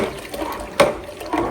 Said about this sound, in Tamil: என்னது அது இவ்வளவு தண்ணியா வருது?